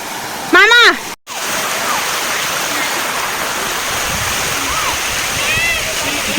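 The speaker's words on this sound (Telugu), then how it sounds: "ఈసారి కరెక్ట్ వాటర్ ఫౌంటైన్ స్టార్ట్ అయ్యే టైంకి వచ్చాము" A park water fountain splashes in a steady, loud rush of falling water that runs through the whole stretch, with a brief voice-like chirp near the start and a short dropout.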